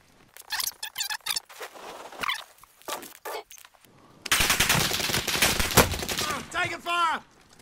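Bursts of rapid automatic gunfire from a video game, from short scattered rattles to a dense loud volley, mixed with fast excited talk from players.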